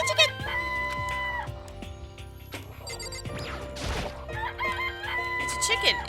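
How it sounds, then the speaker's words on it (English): Cartoonish chicken crowing and clucking from a Danganronpa video game amid other game sounds: a loud cock-a-doodle-doo with ringing tones and clucks over a busy electronic background, with a voice now and then. "It's a chicken."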